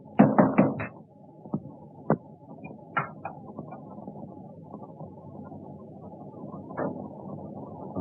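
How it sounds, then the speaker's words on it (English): Several quick knocks rap on a door in a 1930s film scene, a tight cluster of four blows followed by scattered single taps, fairly close, over a low steady hum. "I heard a knock at the door."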